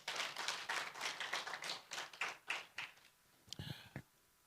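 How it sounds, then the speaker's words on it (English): Scattered applause from a small audience for presenters at a World Ozone Day and clean air celebration, a few people clapping in uneven bursts that thin out and stop, fairly faint. "Please give our presenters another round of applause."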